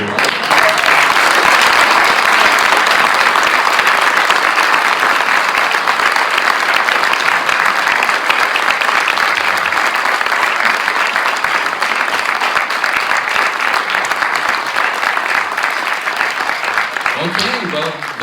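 Storytelling event audience giving a loud, sustained round of applause for the storyteller, dense continuous clapping near and full that carries on without a break.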